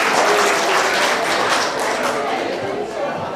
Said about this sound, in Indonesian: kita beri aplaus kepada announcer pembawa acara itu